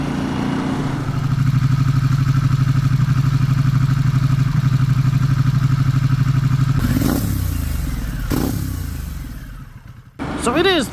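A Harley-Davidson Pan America motorcycle on an after-work ride, its engine droning steadily with a low rhythmic pulse before shifting and easing off, broken by brief rushes of wind and clatter near the end.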